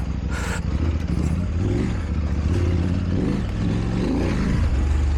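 A motorcycle with a 16-tooth front sprocket and a fuel dongle fitted revs hard, its engine note rising and falling loudly and continuously for several seconds with no talk.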